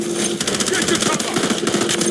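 Rapid automatic gunfire in a shooter video game, loud and continuous bursts of fast rattling shots filling the whole moment, with a voice partly underneath.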